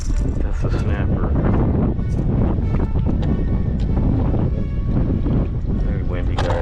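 Strong gusting wind roars continuously into the microphone while kayaking on a 2022 Hobie Outback in Matlacha, Florida, a loud buffeting rumble with water splashing beneath and no pauses.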